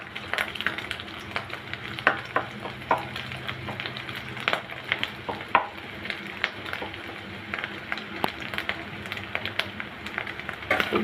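Egg frying in a little oil with ground garam masala paste, a busy crackling sizzle broken by frequent sharp pops and spatula scrapes, close and continuous.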